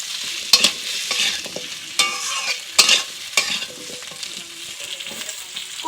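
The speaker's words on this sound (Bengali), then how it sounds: "এর মধ্যে কেটে রাখা আলু দিয়ে দেব, এগুলোকে একটু ভালো করে ভেজে নেব।" Cut potatoes frying in a pan, a soft continuous sizzle punctuated by sharp clinks and scrapes of a spatula stirring, heard up close without any speech.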